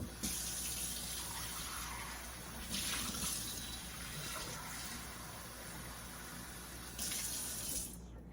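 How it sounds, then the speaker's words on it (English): Cold water runs steadily from a tap into a bowl in a kitchen, a continuous close splashing hiss with slight surges in flow, ending abruptly as the tap is shut off. "I'm going to go ahead and put some cold water in the bowl."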